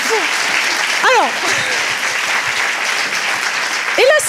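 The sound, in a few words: audience applause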